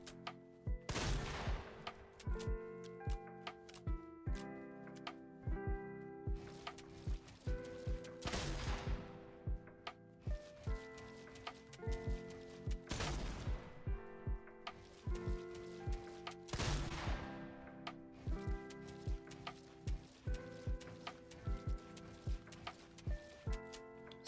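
Repeated shotgun blasts in Fortnite during floor-skip practice on a warm-up map, sharp loud bangs in irregular bursts with clicking and mechanical handling noises between shots.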